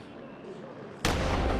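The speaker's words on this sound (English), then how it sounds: "The start guns crack through the morning air" Starting guns go off at the swim start of an Ironman 70.3 triathlon in Xiamen, one sudden loud crack near the end that cuts into a quiet outdoor hum and rings on afterward.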